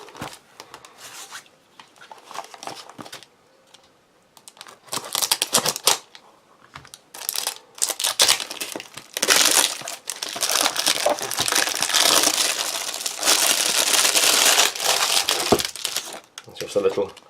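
Russian single-meal emergency ration pack being torn open, with loud crinkling and crushing of packaging in bursts that build into sustained rustling, close to the microphone.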